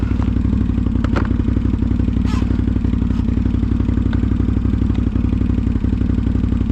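A Can-Am Outlander ATV engine runs loud and close with a steady, pulsing low drone, joined by clattering thumps and a few scrapes.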